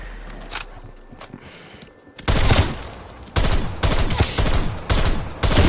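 Loud bursts of automatic gunfire in Call of Duty Black Ops Cold War Zombies, starting after a quieter stretch and repeating in several close, heavy volleys.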